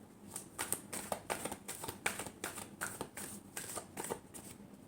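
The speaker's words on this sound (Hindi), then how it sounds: "Last shuffle." A deck of tarot cards is shuffled briskly up close, giving a steady series of papery riffles and slaps that repeat for several seconds with no talking.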